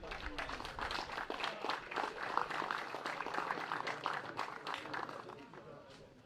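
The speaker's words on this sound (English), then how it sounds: "Please applause for Benedek Kovac." An audience claps steadily for a bronze medallist at a race prize ceremony, a dense, continuous patter of many hands that eases slightly toward the end, with a voice speaking over it.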